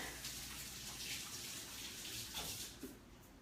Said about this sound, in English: I'm going to wash my hands again, rinse them off again.